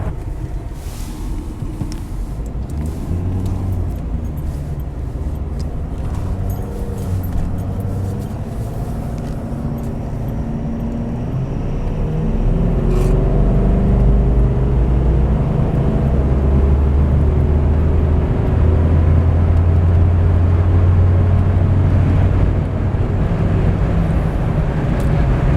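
A 2015 Ford F250 pickup with a 6.7L Powerstroke diesel and deleted DPF cruises and accelerates on the road, a deep engine drone building louder midway amid wind and road noise, steady and close.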